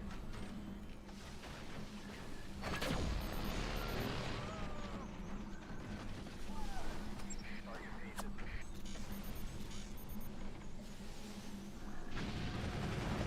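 Howitzer and missile fire in a video game, a run of booming blasts and gunfire-like bursts over a sustained rumble, with a person talking through much of it.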